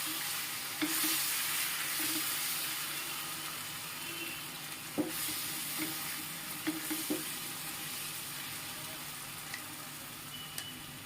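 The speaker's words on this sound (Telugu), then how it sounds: "కిచెన్లో ఇట్లా వంట చేసే సౌండ్ విన్నామంటే చాలా బాగుంటుంది కదా" Ground masala paste is stirred and fried in a kitchen pan until the oil separates: a steady, close sizzle with occasional spoon scrapes and clinks against the pan, and no one speaking.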